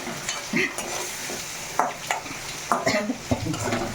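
Tomatoes cook in a pan for a plain Vidarbha-style green-chilli besan, giving a steady close sizzle broken by several sharp stirring scrapes and clinks of a spoon against the pan.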